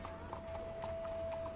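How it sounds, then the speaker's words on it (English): Horse hooves clip-clop at a steady walking rhythm in Red Dead Redemption II, moderately close and fairly quiet, with a faint background tone running underneath. "You like my new horse, Dutch?"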